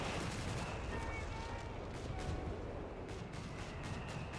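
Dense, continuous battle noise from Company of Heroes 3 with Recce artillery fire, a steady wash of distant gunfire and blasts at low level, with no single shot standing out.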